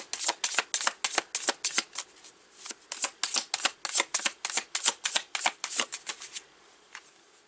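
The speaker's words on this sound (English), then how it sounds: "I'm going to pull some more here from the Tarot of Oneness." Tarot deck being shuffled by hand, a long run of rapid, crisp riffling card flutters in steady bursts, close and fairly loud, with no talking.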